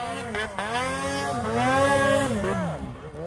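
A turbocharged race car screams up a hill climb course, its engine note rising and falling through gear changes as it accelerates hard past the listener, loud and continuous, with a spectator voice briefly exclaiming over it.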